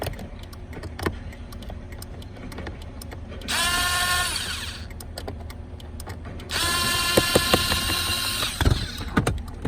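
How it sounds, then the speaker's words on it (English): Two bursts of a drill driver whirring as it removes a bolt, each lasting a few seconds, with quiet clicks and handling noises in between. "I'm gonna get my Phillips head put into my drill driver here. We're gonna knock out this bolt."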